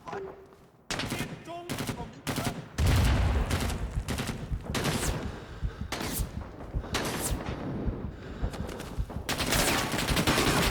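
Dense gunfire in the Rising Storm 2 shooter game: heavy bursts of automatic and rifle fire crack continuously with loud, close shots and distant volleys, with occasional muffled speech mixed in.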